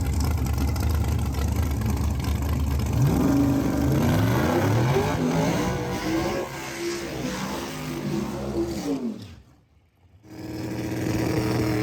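Drag race cars accelerate hard down the strip, one running nitrous, their loud engines climbing in rising harmonic sweeps before the roar drops out briefly near the end and returns.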